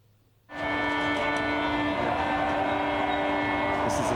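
A subway train in a Washington, D.C. station, recorded by a station security camera, starts abruptly after a brief quiet moment and then holds a loud, steady rumble and screech with sustained tonal whine, continuous and without talk.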